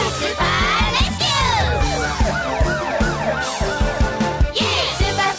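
An ambulance siren wails in rising and falling sweeps over the bouncy music of a children's rescue-vehicle song, loud and repeated across several seconds.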